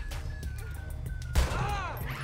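Gunfire rings out in the GTA V video game during a robbery: a sharp shot bursts out midway with a ringing, echoing tail, amid faint background game noise and a few scattered earlier pops.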